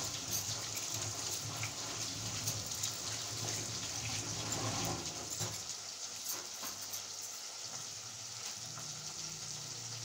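Hands are washed with soap under a running tap, a steady close hiss of flowing water with soft splashing and rubbing that quiets slightly toward the end, with no talk.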